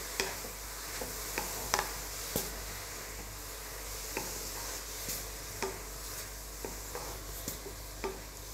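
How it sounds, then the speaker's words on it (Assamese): Grated carrots stirring in oil for gajar halwa, a soft steady sizzle broken by light scraping clicks of a spoon against the pan every second or so, close and fairly quiet. "ওলট পালট কৰি লৰাই দিছোঁ"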